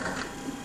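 A Citadel Mendel 3D printer runs at 120 mm/sec, giving a dense, steady mechanical whir and hiss from its moving parts, close and continuous.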